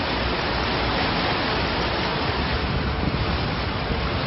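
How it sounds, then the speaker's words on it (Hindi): Floodwater pours off a rooftop in a flooded residential area of Rajkot during heavy monsoon rain, a steady, loud, unbroken rush of water with no voices. "छत से पानी पूरी रफ्तार से नीचे गिर रहा है और मंजर तालाब जैसा हो गया है।"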